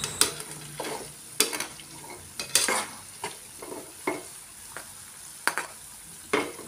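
Cabbage 65 fritters deep-frying in oil while being stirred, with a steady bubbling sizzle broken by repeated sharp scraping and clinking strokes of a utensil against the pan, close and clear with no talking.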